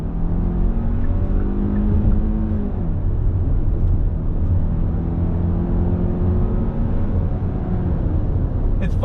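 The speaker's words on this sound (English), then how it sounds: "On throttle from a roll." A 2023 Hyundai Tucson XRT SUV accelerates from a roll under steady throttle. A loud engine drone rises in pitch, then shifts down and climbs again, with road and wind rumble underneath.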